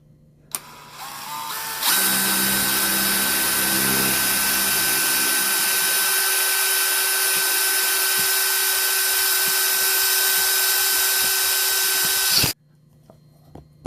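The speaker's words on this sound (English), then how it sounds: "It actually took surprisingly more downward force than I was expecting just to drill a 1/4 inch hole through there." A power drill with a cobalt bit bores a 1/4 inch hole through metal held in a vise, a loud steady high whine for about ten seconds after a brief spin-up, ending abruptly as the bit punches through.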